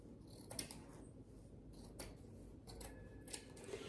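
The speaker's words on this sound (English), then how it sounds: "Now all I'm going to do is just a real rough cut along this comforter." Scissors make a rough cut through a quilted comforter, with several quiet, close crunching snips spaced across a hushed room.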